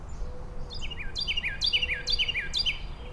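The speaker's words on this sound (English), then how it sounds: "bird calls," Several bright, repeated bird calls ring out during a quiet spell without human noise, each a quick descending chirp in a short series over a soft, low background rumble.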